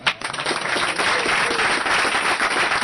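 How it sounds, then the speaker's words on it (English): An audience applauding at the end of a Zelda speedrun, dense sustained clapping throughout with a few voices mixed in. "then at the end they clapped for Wright"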